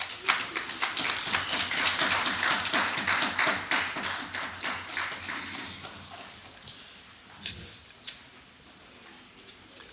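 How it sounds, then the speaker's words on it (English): Applause in a parliament chamber during a plenary session as a guest enters: sharp, close hand claps, dense at first, that thin out and fade to a few scattered claps. "We can clap for him, he's coming in."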